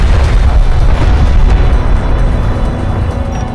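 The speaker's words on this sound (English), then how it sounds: "Enemy production cruiser destroyed." Heavy boom as an enemy production cruiser explodes in the real-time strategy game Homeworld: Deserts of Kharak, a loud, sustained rumbling blast filling the whole moment and slowly fading.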